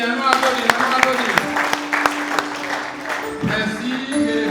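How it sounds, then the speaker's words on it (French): A church congregation applauds during a service, scattered sharp claps mixed with a continuous crowd sound and people talking over it. "On nous applaudit Seigneur. On nous applaudit."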